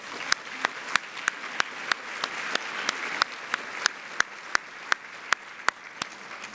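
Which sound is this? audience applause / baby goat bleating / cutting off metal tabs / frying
audience applause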